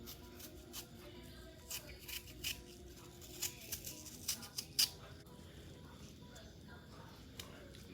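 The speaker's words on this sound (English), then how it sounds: "we're going to gently peel the skin off" Apple skin is peeled away with a knife, giving faint scraping and slicing strokes in an irregular rhythm, close and quiet, with soft handling noises between them.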